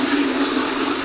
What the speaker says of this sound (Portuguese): Você deu descarga